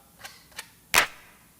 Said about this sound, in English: So that's a really sort of short clap.